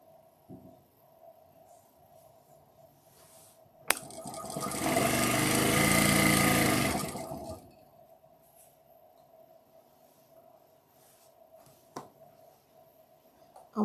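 A sewing machine stitches quilt block pieces in one steady burst of about four seconds, close and moderately loud, with faint quiet handling noises before and after.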